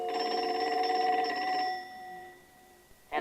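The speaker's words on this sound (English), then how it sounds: "the telephone rang" A telephone bell rings in a Big Bird story tape, a bright repeating trill that sounds steadily for about a second and a half and then cuts off, followed by a faint click.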